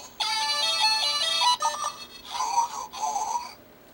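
A Kamen Rider Gaia Memory toy gives off bright electronic tones, one after another. A longer melodic phrase comes first, followed by a short gap and a few shorter tonal bursts. The sound is close and fairly loud, with no talk over it.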